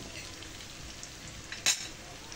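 Buttered seafood with garlic being stirred in a frying pan, giving a steady, soft sizzle with one brief scraping clatter near the end, heard alone without talk.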